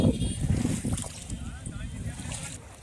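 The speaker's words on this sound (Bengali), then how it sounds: "আমরা এখন নৌকা করে ওপারে যাবো" Small boat crossing a river, with low rumbling water and wind noise throughout, people talking over it near the microphone.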